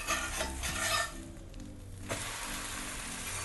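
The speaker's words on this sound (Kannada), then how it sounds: "ಈಗ ಇದನ್ನು ಹೊಳ್ಳಿಸ್ಕೊಳ್ಳೋಣ್ರಿ." A Davanagere benne dosa fries on a hot pan with a steady close sizzle. A few scraping spatula strokes come near the start, then a sharp scrape and clatter just past the two-second mark as it is turned. No talking.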